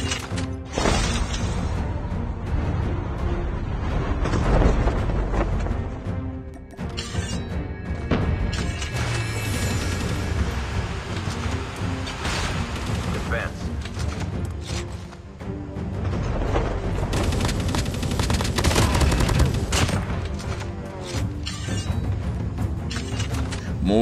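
Kilo 141 assault rifle fire in a first-person shooter, a dense, loud barrage of shots and impacts running steadily with brief dips and no talk.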